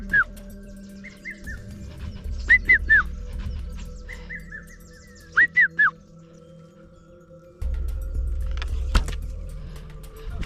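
A person whistles in imitation of a bird to lure it while hunting near a camp, sending out several short, sharp, rising whistles in small groups over a low background rumble.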